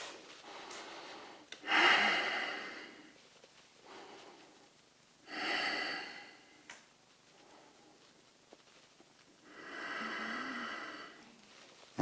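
Slow, deep breaths during a yoga pose, three soft swells of inhaling and exhaling spaced several seconds apart, close and quiet with faint ticks between.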